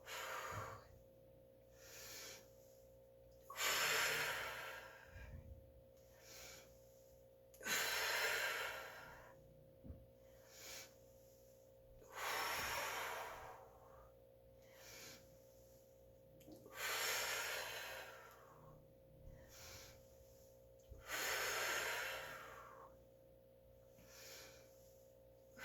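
Loud, rhythmic breaths during Pilates bicycle crunches in a full-body workout, with forceful exhales and snort-like huffs recurring every few seconds over a steady low hum and no talking.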